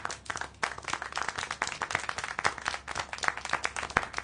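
Many hands clap in a brisk, uneven patter, a small crowd applauding steadily at moderate volume.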